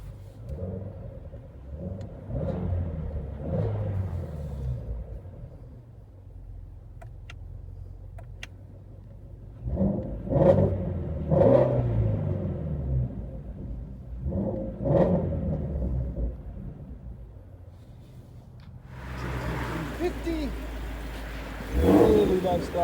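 A 2016 Ford Mustang GT350 with a 5.2L V8, dual exhaust and resonator delete revs in a series of throaty bursts that rise and fall, ending in a louder, harsher roar.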